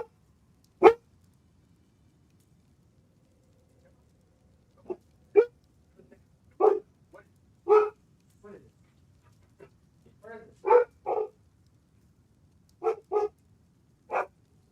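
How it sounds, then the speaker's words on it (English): A pet guard dog barks indoors several times at irregular intervals, each bark short and moderately loud, with a quiet room between them. "Sorry about the dog barking, guys."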